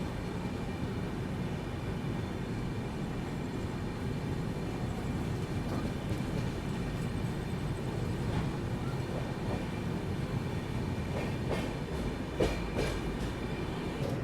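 The Humsafar Express, between Pune and Kolkata, rolls on near Raigarh station in Chhattisgarh with a steady rumble of wheels and carriages and scattered clicks and clanks over the rails.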